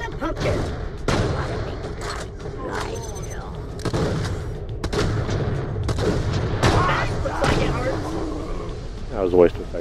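Gunshots in Borderlands The Pre-Sequel, played as Fragtrap: several sharp, loud single shots spaced across the stretch over a steady rumble of game ambience, with a voice talking over parts of it.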